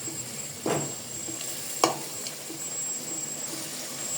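Beef frying with spices in a pan gives a soft, even sizzle, with two distinct stirring scrapes and a few fainter ones, close and moderately quiet, no speech.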